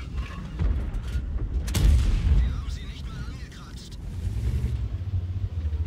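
Tank cannon fire in World of Tanks, deep booming shots with a heavy rumble under ongoing battle noise, one strong blast near the middle and engine-like drone throughout.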